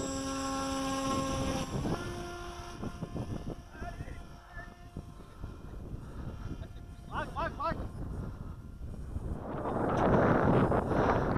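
An FPV drone's motors buzz and whine during a test flight, rising in pitch and growing to a loud close roar near the end, with people talking over them and wind noise.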